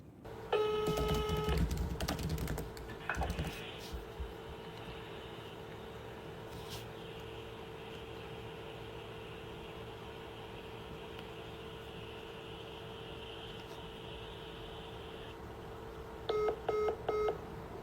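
A telephone call: quick electronic dialing beeps, then a long steady ringback tone that repeats before a final pair of beeps, heard faintly through a handset with no talk.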